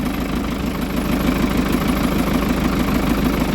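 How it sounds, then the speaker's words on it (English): A turbo diesel Holden Nova engine with upgraded injectors idles steadily with a faint, rapid tapping ticking through the low rumble, close and continuous. "Tapping noise is still there, which is annoying."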